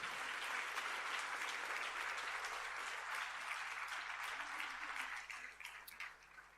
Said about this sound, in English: Give them one last round of applause, please.